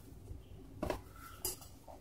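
A small folding camp stove is handled, giving two distinct metallic clanks with faint rattles between them, close and quiet, with no talking.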